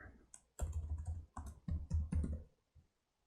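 Computer keyboard typing in short bursts of quick clicks while text is edited in After Effects, close and clear with brief pauses between runs of keystrokes and no talking.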